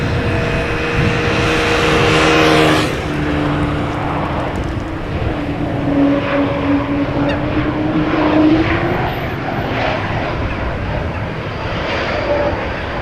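A departing airliner roars at Amsterdam Schiphol Airport, with loud jet engine noise building early, then a long rumbling whine that slowly fades as the aircraft climbs away. No voices are heard.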